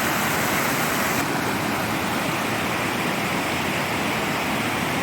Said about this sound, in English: This is a cool little falls.